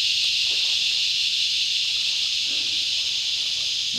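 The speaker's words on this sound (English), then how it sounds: "Those cicadas are deafening." Cicadas drone loudly in a constant, shrill buzz that fills the air without pause, on a warm summer day on the Hawkesbury River.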